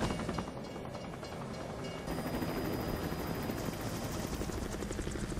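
A police helicopter in The Incredibles Xbox video game whirs with a steady, dense rotor drone that grows slightly louder partway through, with no speech over it.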